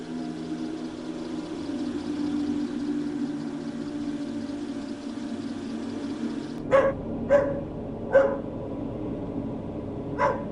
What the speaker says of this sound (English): it all of a sudden started barking